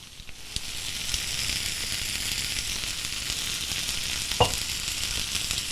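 A quesadilla sits in a hot pan as the cheese melts, giving a steady, even sizzle and hiss with a couple of faint clicks and one brief scrape partway through.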